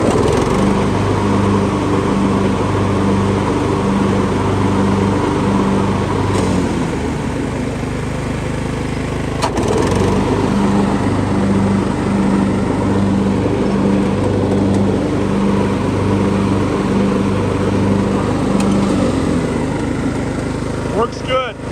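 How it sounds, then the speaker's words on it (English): A Craftsman LT1000 riding lawn mower, fitted with a brand-new gas tank and a replaced deck spindle, idles steadily and loudly nearby with an even, buzzing drone that never surges. "Engine idle's nice. No surging whatsoever."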